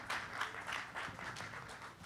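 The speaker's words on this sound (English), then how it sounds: "round of applause for Luke" Live audience at a producer showcase gives a short burst of applause for a performer, brisk overlapping claps filling the room for a couple of seconds before tapering slightly.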